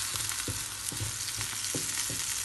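Garlic stirred in olive oil in a pan, a steady close sizzle broken by regular scraping strokes of a spoon against the metal, roughly twice a second, with no talking.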